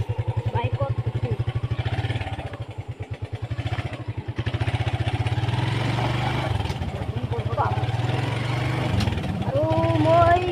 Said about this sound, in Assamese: এতিয়া মই মোৰ মামাৰ বাইকত উঠোঁ